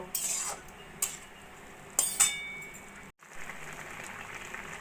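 A spoon stirs thickening papaya chutney with cashews and raisins in a cooking pot. Sharp metallic scrapes and clinks come about once a second over a soft bubbling simmer, close and fairly quiet, with a brief dropout partway.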